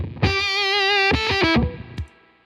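Heavily distorted electric guitar through a Mythos Pedals effect pedal, a loud sustained chord with wavering modulation, then a few choppy strums and a final muted hit fading out.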